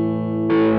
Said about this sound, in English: I can engage the distortion.